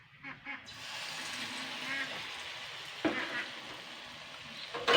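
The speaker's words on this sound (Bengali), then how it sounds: "এটা কিন্তু কম আঁচে ভাজার চেষ্টা করবেন, তাহলে ভাজাটা কিন্তু সুন্দর ভাজা হবে।" Spoonfuls of brahmi leaf and lentil pakora batter go into hot oil and fry over low heat, a soft, continuous sizzle with faint stirring clinks near the start and end.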